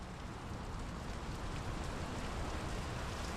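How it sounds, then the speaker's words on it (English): Steady rain falls in the video game Draugen, a dense, even hiss that stays constant and fairly close without any distinct drops or pauses. "The rain's picking up."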